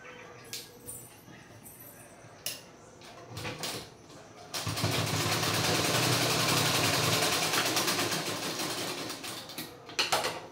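A sewing machine runs in one long continuous burst, stitching tucks into a four-tuck blouse, after a few seconds of quieter fabric handling and light clicks.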